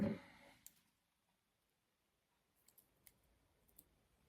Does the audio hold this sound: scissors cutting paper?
yes